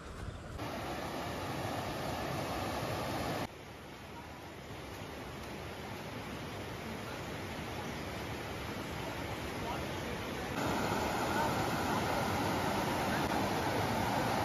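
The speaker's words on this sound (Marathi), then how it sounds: "तर आता आलो आम्ही इथे आणि पाण्याचा आवाज येतोय." River water flows steadily at a riverbank, a broad, even rushing that stays soft and continuous for the whole stretch, with occasional voices talking in the background.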